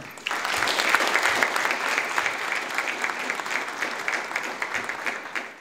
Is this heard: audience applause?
yes